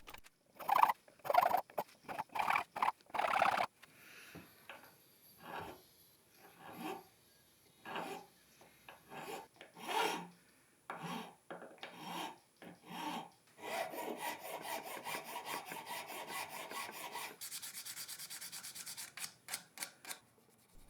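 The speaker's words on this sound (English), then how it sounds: "I always go over each slot with the thinnest file just to start off with." Fine, rapid rasping strokes of a thin file cutting string slots in a guitar nut for a custom multi-scale Strat, close and quiet, in quick bursts with short pauses and then a longer steady run of scraping.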